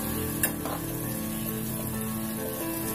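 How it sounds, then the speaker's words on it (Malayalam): Sliced onions deep-frying in hot oil for Thalassery biryani, a steady, loud crackling sizzle close by, with a brief clink of a utensil near the start and no voices. "ഇനി ബാക്കിയുള്ള ഉള്ളികളെല്ലാം ഇതേപോലെ തന്നെ വറുത്ത് കോരിയെടുക്കുകയാണ്"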